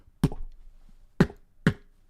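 A voice imitates a kick drum, giving three short, low, punchy mouth thumps with uneven spacing, close and distinct against near silence.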